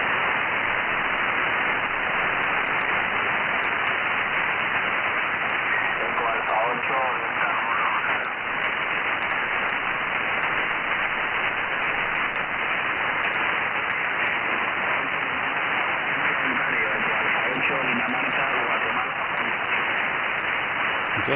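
Hiss and static on a 20-meter HF amateur radio band, with a faint, barely intelligible voice from a distant Spanish DX station buried under the continuous band noise.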